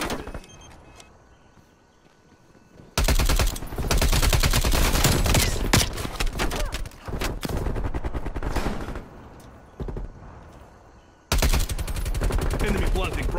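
Rapid automatic AUG rifle fire in Call of Duty Cold War, loud sustained bursts of gunshots close up with short pauses between volleys, other game sounds under it.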